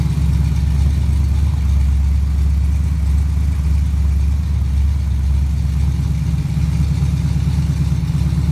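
A Pontiac 400 V8 runs steadily on an engine test stand, a loud, constant low idle rumble with a fast even pulse and no voices, holding level throughout.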